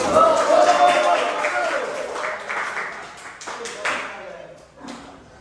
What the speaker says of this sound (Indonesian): silakan mari kita beri aplaus untuk kelompok 3 dulu